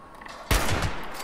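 A single sniper rifle shot in the video game Fallout 76 cracks out loud and abrupt, then trails into a broad ringing decay that fades over the next second.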